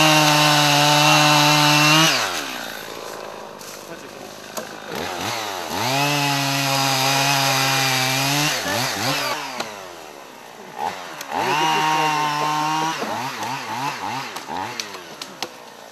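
Chainsaws cut storm-broken trees in a park: loud two-stroke engines rev up and bog down under load in repeated bursts, with rising and falling pitch between cuts and idling pauses.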